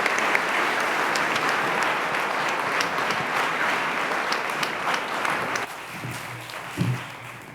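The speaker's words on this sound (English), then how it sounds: "please give a round of applause for David Ernstein, Spark of Hope Individual Supporter Honoree" Sustained audience applause at a Spark of Hope 2019 honoree event, steady dense clapping for several seconds before thinning out near the end.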